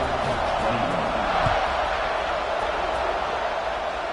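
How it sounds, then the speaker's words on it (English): A football stadium crowd roars steadily before a kickoff, a dense, loud wash of cheering and shouting that never lets up, with an announcer's voice faintly mixed in. "this crowd now ready to get behind them"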